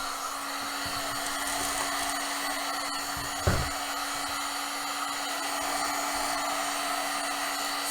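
A heat tool blows hot air over a long Worbla edging strip for a cosplay breastplate, a steady close hairdryer-like whoosh with one brief clack partway through.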